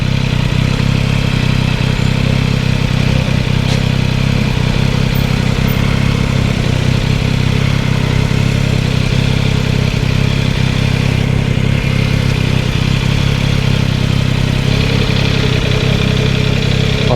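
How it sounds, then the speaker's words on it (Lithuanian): A car engine idling with the clutch released, carrying an abnormal mechanical noise: a steady, loud, close drone with a rough clattering texture running unbroken throughout. "Garsas, kai tikrai kažkas variklį yra negerai."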